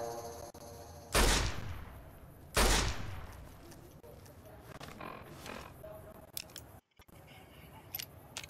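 Two loud, sharp gunshots ring out about a second and a half apart while barrels are shot in Fallout: New Vegas, followed by softer clatter and game ambience.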